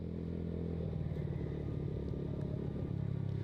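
A Yamaha Mio Sporty scooter with a VND aftermarket exhaust runs at a steady idle, its loud, close, raspy putter pulsing evenly throughout with no talk.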